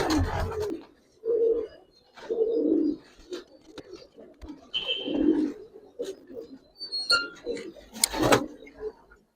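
Pigeons (a pair of Gribaz and palla liner birds) coo in low, throaty bursts, several calls in a row close by, with a few chirps and some rustling between them.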